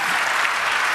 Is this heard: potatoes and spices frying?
no